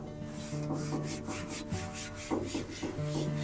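Close, steady rubbing as a wet towel wipes over a Blackstone griddle surface during prep, a continuous scrubbing swish with rhythmic strokes and no talk.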